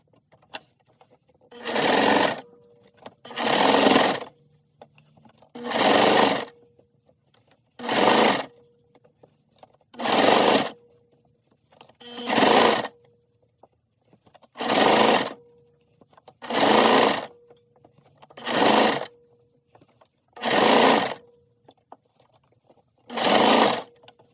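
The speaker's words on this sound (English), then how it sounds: "you're going to carefully zigzag the seam down" A sewing machine zigzag-stitches a sleeve cuff seam over folded elastic in repeated bursts of about a second each, stopping and starting at an even rhythm, close and clear with no talk.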